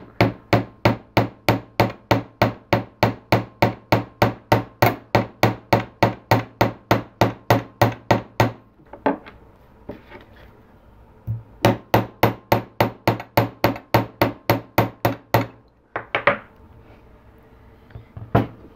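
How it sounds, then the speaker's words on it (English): A hammer strikes copper laid on a metal bench block to flatten it, sharp ringing blows in a fast, even series of about thirty, a pause, then another quick run and a few scattered taps, close and loud. "So we're just going to take our hammer and we're just going to flatten a little bit more"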